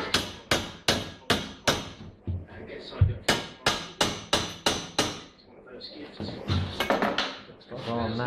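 A hammer strikes a metal exhaust pipe on a custom exhaust build, bending it out: rapid, loud, evenly spaced clangs in two bursts, with a short pause and some scraping and handling noise between them.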